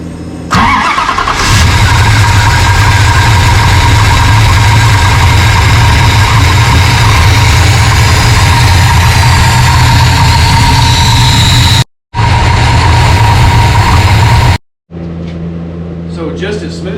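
A car engine fitted with a Holley Hyperspark 2 ignition cranks and fires up, then settles into a steady, smooth idle nearby, cutting out briefly near the end.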